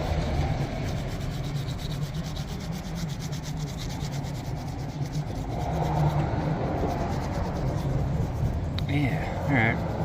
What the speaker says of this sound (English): so I have to actually do a little bit of rubbing, a little scrubbing